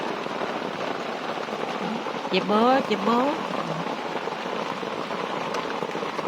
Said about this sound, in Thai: ฝนมาแล้วนะคะ